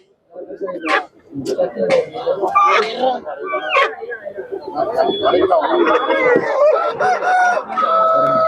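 Chickens cluck and a rooster crows at a busy broiler chicken market in Kundrapalli, South India, with a dog barking faintly and people talking over the steady crowd noise.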